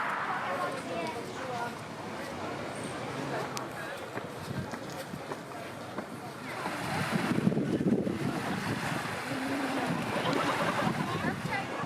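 Surf washing onto a Baltic Sea beach near Hel, Poland, a steady broadband wash that swells louder in the second half, with wind buffeting the microphone and people talking over it.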